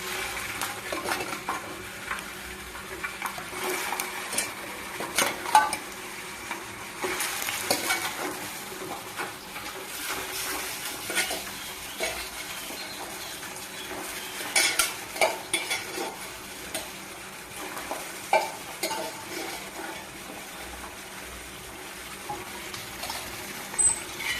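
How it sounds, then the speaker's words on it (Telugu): Boiled chicken pieces fry in hot oil for a chicken pickle, giving a steady, fairly quiet sizzle throughout, with frequent stirring scrapes and clinks of a utensil against the pan and no talking. "ఆయిల్ బాగా వేడెక్కిందండి ఉడకబెట్టుకున্న చికెన్ ముక్కలు వేసుకుందాం"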